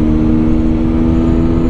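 A QJ Motor SRK125 R 125cc sport motorcycle engine held high against its rev limiter around 10,500 rpm, a loud, steady buzzing drone heard close throughout.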